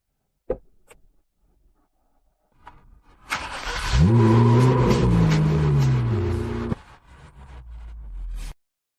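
A car engine starts and revs hard, climbing and sustaining a loud roar for about three seconds before dropping to a low idle, after a few faint clicks and near silence.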